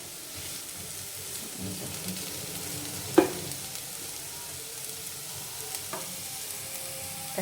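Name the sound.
potato bhaji frying and being stirred in pan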